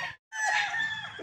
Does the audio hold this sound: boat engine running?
no